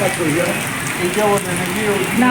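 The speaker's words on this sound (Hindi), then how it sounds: "बाहर बहुत बारिश हो रहा है" Heavy rain falls steadily outside, a dense continuous hiss close by, with voices talking over it.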